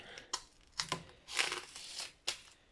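Plastic packaging on ground meat is sliced open and peeled away, producing a few quiet, close crinkling tears and rustles in short bursts, with no one speaking.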